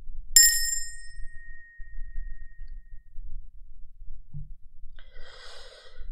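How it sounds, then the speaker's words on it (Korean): A single bright bell ding rings near and clear and fades over a few seconds, followed later by a softer shimmering chime, over a quiet breathy background. "종소리로."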